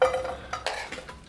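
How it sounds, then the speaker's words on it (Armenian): Chopped onion hitting a pan and frying, with a few short clinks and scrapes of a utensil over a soft sizzle; close and brief, without talking. "սոխը կտրտեցի, լցնում եմ տապակի մեջ"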